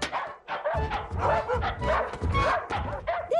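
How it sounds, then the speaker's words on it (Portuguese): A large dog in a cartoon barks repeatedly in loud, close bursts, mixed with yips and whines, with a voice briefly audible alongside. "Você é um cachorro bem grande, não é, garoto?"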